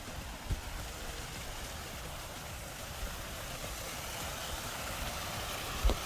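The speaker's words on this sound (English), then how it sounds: "a waterfall, and you can also hear the waterfall" Waterfall heard from a village path in Gircha, Gojal, Hunza, a faint, steady broadband rushing of water with a few soft knocks, no voices.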